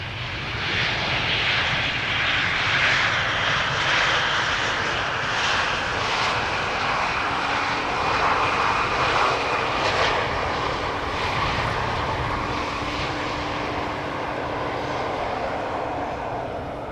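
A 15-year-old Boeing 737-700, registration PH-BGF, arriving at Amsterdam Schiphol, its engines giving a loud, steady roar throughout with no voices over it.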